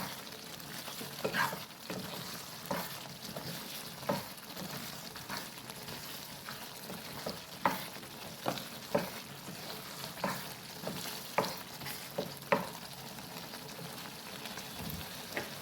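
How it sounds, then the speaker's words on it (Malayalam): Liver being sautéed in a pan for a spiced dry fry: continuous sizzling with repeated scraping stirs at a fairly regular pace, heard up close with no one talking. "കുറച്ചും കൂടെ വറ്റി വരണം അതുവരെ നമുക്കൊന്ന് വഴറ്റെടുക്കാം"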